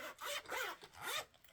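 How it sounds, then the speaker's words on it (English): A zipper on a crochet hook zippered pouch is pulled in three quick rasping strokes, close and quiet, with no talking. "The zipper seems to work pretty good"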